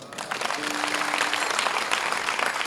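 An audience at a Namdev Shastri kirtan bursts into sustained clapping, a dense and fairly loud round of applause that holds steady for a few seconds.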